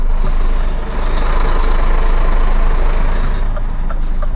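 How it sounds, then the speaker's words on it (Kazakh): Heavy traffic rumbles past on a city road, a continuous loud wash of truck and car engines with a brief dip near the start and steady roar throughout, no talking. "Машиналар өтөт тура."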